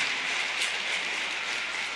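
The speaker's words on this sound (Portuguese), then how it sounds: "Vamos dar um aplausos ao Senhor." Church congregation applauding together after a prayer, a steady dense wash of clapping that holds evenly throughout with no voices over it.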